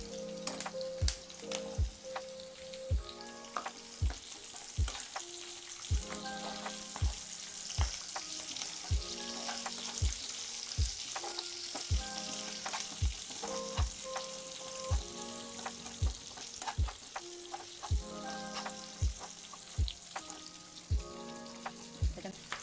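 Onion and capsicum fry loudly in a pan, giving a continuous sizzle broken by regular sharp knocks and scrapes of a spatula against the pan throughout.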